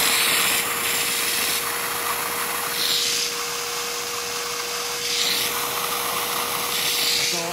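A Bissell Little Green portable spot cleaner runs steadily while its hose is being cleaned out, giving a loud, continuous motor whine with a constant hum and occasional rising rushes of airflow, and no talking.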